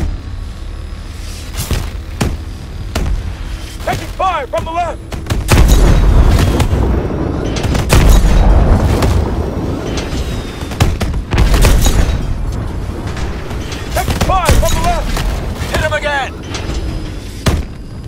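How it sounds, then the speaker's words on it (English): Heavy gunfire and booming explosions fill a Call of Duty Advanced Warfare campaign battle with a hovercraft and tank, arriving in dense, loud bursts under shouted voice chatter and radio-style talk. "Taking fire from the ring! Fire from the right!"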